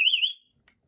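A home security system's panic alarm siren blares loud and close: a piercing electronic tone that warbles for under half a second, then cuts off abruptly into silence.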